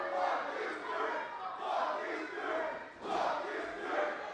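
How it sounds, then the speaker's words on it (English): A wrestling event crowd jeers and roars at a wrestler in a continuous, moderately distant swell of voices that rises and falls in waves. "The crowd letting Alex Taylor know how they feel about him"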